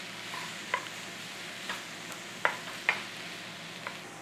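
White, red or any onion softening gently in a frying pan for an Offaly bacon loaf, giving a quiet steady sizzle with a few soft utensil clicks and stirring scrapes, no talking.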